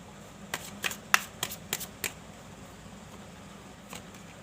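A deck of tarot cards is shuffled by hand in a series of crisp riffles and snaps, about seven quick bursts close by, followed by a quiet pause and one last flick.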